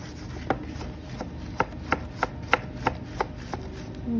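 A snake gourd is scrubbed clean with a kitchen scrubber, giving a series of sharp, close rasping strokes at an irregular, roughly steady rhythm, about a dozen in a few seconds, with no talk.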